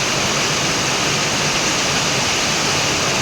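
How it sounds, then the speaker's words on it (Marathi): Heavy monsoon rain pours down in a steady, dense, unbroken hiss, loud and close throughout, with no voices. "पाणी जोरदार एवढा पाऊस आहे का नाही"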